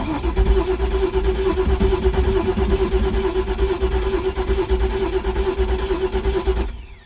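A MerCruiser boat engine cranks and runs, a loud steady mechanical drone with a constant hum that holds for about six and a half seconds before cutting off abruptly.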